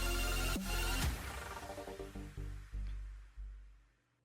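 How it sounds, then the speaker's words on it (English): A phone ringing in the Cruelty Squad video game, a loud burst followed by a string of decaying electronic ring tones that fade out. "we receive a most unusual phone call"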